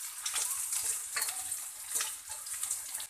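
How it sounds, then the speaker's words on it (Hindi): Onion, ginger and spices, including black cardamom, frying in a pan for mixed dal. A close, crackling sizzle rises in repeated bursts as a spoon scrapes and stirs them. "अब इन सबको अच्छे से चला लेंगे।"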